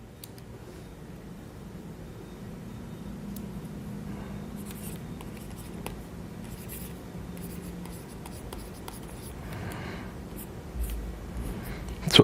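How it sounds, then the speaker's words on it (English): Pen or marker writing steadily on a board during an embryology lecture on palate development, a soft continuous scratching with strokes and brief pauses, fairly faint, with no talking over it. "Let me write that for you."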